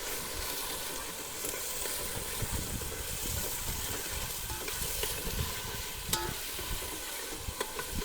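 Onions fry in a pan with a dense, continuous sizzling hiss, joined by occasional light stirring clinks, loud and close with no voices.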